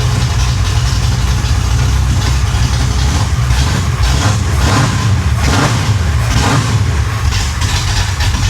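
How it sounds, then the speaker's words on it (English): A flood-damaged Chevrolet Impala rebuilt with a 560hp engine settles into a steady curb idle, a loud continuous low rumble with slight fluctuations and no talk. "So there's the curb idle."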